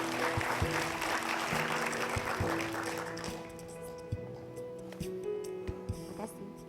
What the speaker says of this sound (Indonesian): Tepuk tangan dulu untuk Sinta.